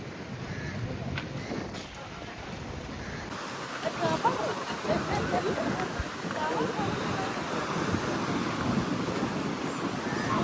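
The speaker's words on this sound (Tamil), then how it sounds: "பயங்கர காற்றுல தான் வந்து இப்போ இங்கே வந்து நிற்கிறோம்" Strong wind roars and buffets the microphone, with a surf-like rush of water behind it that grows louder partway through.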